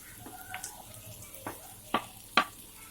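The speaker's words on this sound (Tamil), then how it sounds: "இப்போ இஞ்சி பூண்டு நல்லா பொரிஞ்சிருச்சு" Ginger garlic paste fries in a pan with a soft, crackling sizzle, punctuated by several bright clinks and scrapes from stirring, the last two the loudest.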